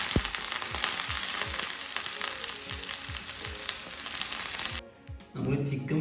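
Curry leaves hit hot oil for a pressure-cooker chicken curry, making a loud, dense, continuous sizzle with soft periodic thumps, cutting out abruptly near the end before a quieter crackle returns.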